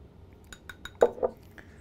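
A spoon stirs a sauce of sriracha, garlic paste, salt and fresh ground pepper in a dish, giving a few soft, scattered clinks with a louder pair near the end, close by and with no talk.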